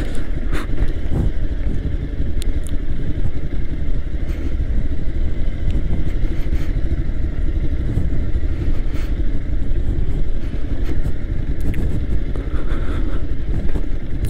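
Motorcycle engine held in first gear while descending a steep mountain road in Ladakh, a steady loud low drone with clattering, running continuously and alone for the whole stretch.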